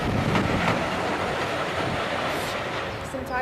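An Austerity 8F steam locomotive draws into a station on a heritage railway, giving a steady, loud rumble of rolling wheels and carriages with a faint clatter throughout.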